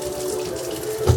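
Perch fillets rinsed in a container of water, giving a steady close sloshing and trickling wash with a brief louder splash as they are lifted out at the end.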